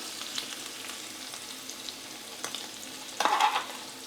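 Pastirma and cooked chickpeas frying together in hot oil give a soft, steady sizzle, with a brief louder burst of spattering and stirring near the end.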